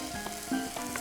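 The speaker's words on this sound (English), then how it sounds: "my sear is good on my chicken" Chicken thighs sear in a hot pan with a steady close sizzle and crackle, a few light clicks of stirring or turning breaking through, with no talk.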